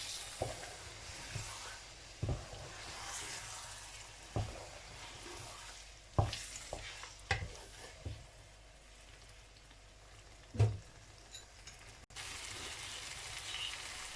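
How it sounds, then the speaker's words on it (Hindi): Yogurt stirred into mutton karahi in a pan, a soft continuous sizzle broken by a few sharp, close scrapes and knocks of the spoon at irregular intervals. "दही डालेंगे, इसको अच्छी तरह इसके अंदर मिक्स कर सकते हैं"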